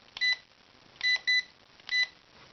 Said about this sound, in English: 2 speeds, 1 beep low speed, 2 beeps high.